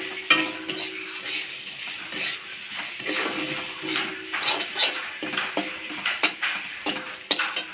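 Ginger hitting a hot pan for an Assamese fish curry with curry leaves, sizzling and frying steadily while being stirred, with intermittent scraping and clinks of utensil on pan, close and moderately loud, no talking.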